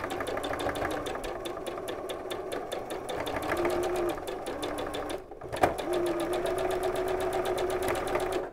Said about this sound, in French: aller doucement dans le premier temps pour que la machine puisse vraiment prendre les tissus correctement